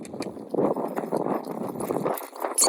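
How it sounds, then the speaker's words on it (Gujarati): A mare walking along a path beside farm fields, her hooves clip-clopping in a steady, close rhythm that carries on throughout with no voices. "આપણે જો ઘોડી લઈને જઈએ દેવુભાની વાડી બાજુ પહોંચવા આવ્યા"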